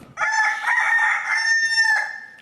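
A rooster crows once, loud and close, in a single drawn-out call lasting about two seconds, with nothing else around it.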